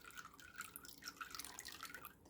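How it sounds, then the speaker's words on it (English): A toy dolphin squirts water, giving quiet splashy dribbles and drips in irregular bursts, close and faint, with no talking. "The dolphin squirts water"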